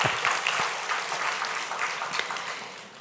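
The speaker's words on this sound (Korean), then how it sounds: "우리 박수로 네, 감사합니다" Congregation applauding during a Sunday worship service at a Korean church after a youth group scripture reading, a moderate, even clatter of many hands that slowly fades, with no speech over it.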